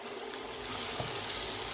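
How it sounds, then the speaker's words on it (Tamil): Radish fries in oil with curry leaves added, a soft steady sizzle with scraping stirs and a brief clatter of the spoon, close and fairly quiet, no talking. "நான் இந்த டைமில் கருவேப்பிலை போடுறேன் கருவேப்பிலையும் போட்டு திருப்பி விடுவோம்"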